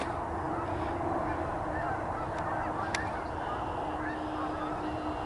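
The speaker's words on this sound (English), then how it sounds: "The geese are goosing." Geese honk in a nature preserve outside Utica, New York, with a few faint calls rising over a steady roar of trucks on a nearby road.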